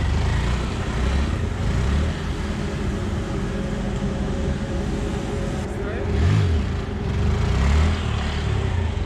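A Honda Grom motorcycle engine runs steadily during a wheelie attempt, its throttle swelling briefly into a louder rev near the end, with a constant rough drone throughout.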